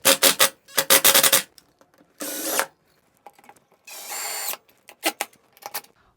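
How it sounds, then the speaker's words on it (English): A screw gun driving screws with washers into a wall for a TV mount, several short close whirring bursts with sharp stops and pauses between them. "I'm going to drive it in with my screw gun"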